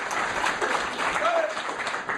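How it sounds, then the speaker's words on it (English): Conference audience applause at a Linux Fest talk, a fairly dense wash of clapping that stays even for a couple of seconds, moderately loud with a faint high background tone. "Round of applause for Linux Fest."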